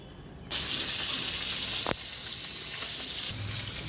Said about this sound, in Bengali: মাছগুলো প্রায় ভাজা হয়ে এসছে